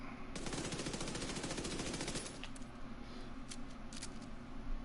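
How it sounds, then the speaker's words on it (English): Rapid SMG fire in Destiny 2 rattles in a dense, loud burst for about two seconds, followed by scattered lighter shots and game effects. "And this is what an SMG."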